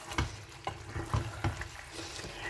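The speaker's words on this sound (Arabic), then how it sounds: "صافي نخلط الكل البطاطا راه طابت الدجاج ديالنا حتى هو يطاب" A spoon stirs potatoes and chicken in a cooking pot, making irregular soft clatters and scrapes over a steady wet bubbling and sizzling, close up and with no talking.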